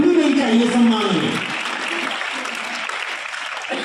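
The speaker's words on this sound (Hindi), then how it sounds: "आप सभी की तालियां रुकनी नहीं चाहिए सम्मान में" An audience at a school prize ceremony claps for a student; a voice speaks over the first second of dense applause, which then continues alone, steady and fairly close.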